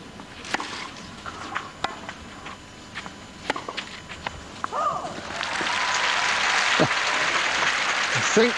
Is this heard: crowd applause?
yes